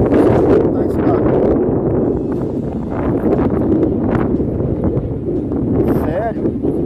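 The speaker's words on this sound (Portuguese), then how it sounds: "É porque aqui tá ventando muito." Strong wind buffets a microphone outdoors, a steady rumbling roar of gusts running throughout, with speech faintly present underneath.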